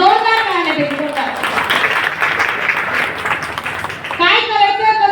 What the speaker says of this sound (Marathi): मनापासून जोरदार टाळ्या होतात.